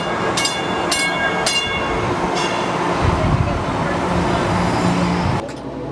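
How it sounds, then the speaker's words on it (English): An Expo Line light rail train rolls through a Los Angeles station, a steady loud rumble of wheels on track with several sharp bell strikes early on, the sound dropping off abruptly near the end. "Train 11, track 4, proceeding south from 23rd Street Station."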